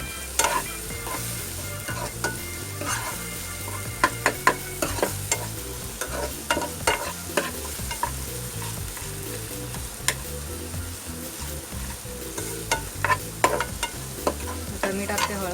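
Chopped onion frying in a pan for stuffed capsicum, a close steady sizzle broken by frequent scraping and clicking spatula stirs.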